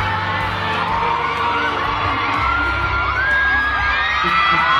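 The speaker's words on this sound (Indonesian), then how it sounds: "Ih, teriakannya ya Allah ya Rabbi." A large crowd of fans screams and cheers nonstop, with shrill high-pitched shrieks rising out of a dense, loud roar of voices.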